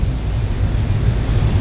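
Turbulent water churned up behind a ferry on the Holyhead to Dublin crossing, a loud close rushing roar dominated by low rumble with wind buffeting the microphone.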